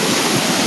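Water washing along a hot beach, a dense steady rush of surf noise close by, with no voices over it.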